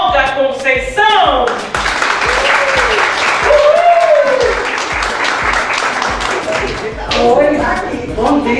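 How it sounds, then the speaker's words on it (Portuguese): An audience applauds to welcome Olga Conceição of Pernambuco's Secretaria da Mulher, a broad, steady burst of clapping with music playing and a voice speaking over it near the start. "com os aplausos de vocês, Olga Conceição"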